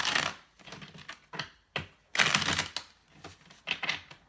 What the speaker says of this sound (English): Just shuffling with the Radiant Rider-Waite tarot deck today